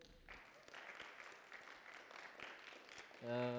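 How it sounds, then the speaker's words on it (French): A church congregation applauds a preacher, a soft, fairly distant patter of clapping that holds steady before a voice cuts in at the end. "Merci David, est-ce qu'on peut l'applaudir?"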